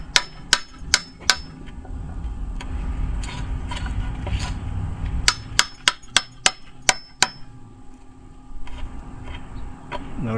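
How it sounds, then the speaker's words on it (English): A regular chisel struck with a hammer cleans out a door mortise for a security plate, giving a series of sharp, close taps in irregular clusters with pauses between bursts. "we're going to clean this out a little bit with just your regular chisel"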